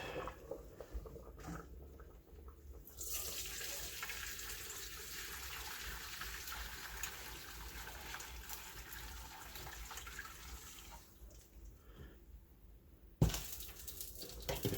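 Hot stock poured out of a pot, a continuous splashing gush of liquid lasting about ten seconds, then a sharp clank as the pour stops.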